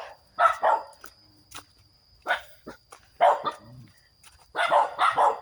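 A dog barks in short repeated bursts outdoors in a forest, the barks fairly close and loud, separated by brief pauses, with a constant high whine underneath.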